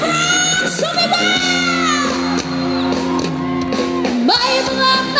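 Concert crowd at a performance in Qatar shouting and yelling over a loud live band, the voices blending with steady amplified music and singing throughout.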